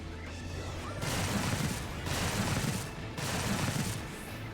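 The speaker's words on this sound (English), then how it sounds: "Incoming missiles." Incoming missiles in Final Fantasy XIV strike in three separate loud bursts of rushing, crashing impacts, each lasting about a second with short gaps between them and no talk over them.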